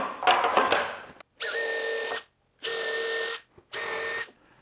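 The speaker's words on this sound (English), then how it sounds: "I can just drill a couple of holes here" A power drill whirs in three steady bursts of about a second each, separated by short pauses, after some brief rattling handling noise.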